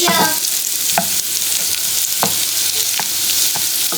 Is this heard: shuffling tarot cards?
no